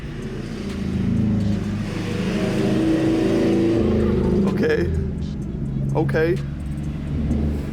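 Friends' cars pulling up near a Nissan 350Z, a steady engine rumble holding throughout with a mild rev swell, while voices talk over it and a brief clink sounds near the end.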